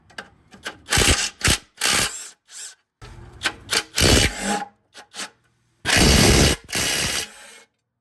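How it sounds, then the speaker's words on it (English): Ratchet clicks and metal rubbing come from work on the bottom transmission inspection cover of a 1994 Oldsmobile Bravada, in bursts of close, loud mechanical sound separated by short pauses. "I'm just unbolting stuff until it comes apart."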